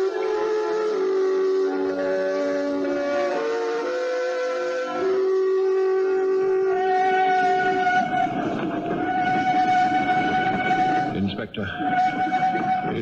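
A long, mournful train whistle sounds over a rumbling, rolling train, the whistle tones shifting pitch before the clatter grows louder.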